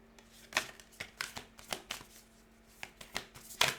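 Tarot cards shuffled by hand in a run of crisp riffling bursts, some louder and closer than others, separated by short pauses, with no voices over them.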